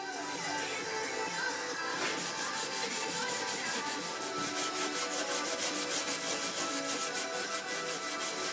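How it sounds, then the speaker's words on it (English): Steady sanding rubs across a burnt wooden sign laid flat, a continuous close scratchy hiss that grows brighter and more pulsing after a brief start, with no talking. "Now I'm going to put it flat down, and I'm going to sand it again"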